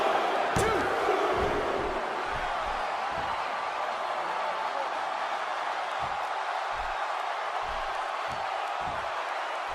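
Arena crowd noise in a WWE wrestling video game, a steady roar of cheering filling the background throughout, with a few thuds and slams cutting through near the start and again toward the end.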